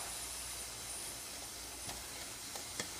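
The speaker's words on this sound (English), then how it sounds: "Oh, I can hear the pressure cooker" A pressure cooker on the stove hisses steadily under pressure with its red lockout pin up, a continuous breathy hiss with a few faint clicks and ticks.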